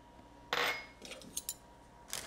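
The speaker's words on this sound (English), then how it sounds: "I just gently stir it in and then spread them out again" Roasted tomatoes with freshly chopped basil are gently stirred together, giving a few soft, close scraping and clinking touches of a utensil against the pan, spread over a couple of seconds with quiet between them.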